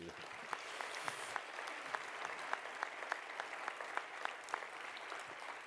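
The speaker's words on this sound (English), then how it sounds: "so an applause for them" Steady applause from a conference audience at a closing plenary session, continuous clapping with regular louder hand claps standing out near the front and faint voices underneath.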